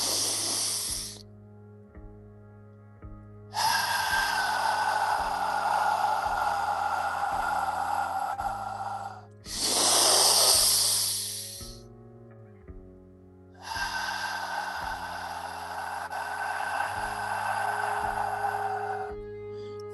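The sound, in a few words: loud slow deep breathing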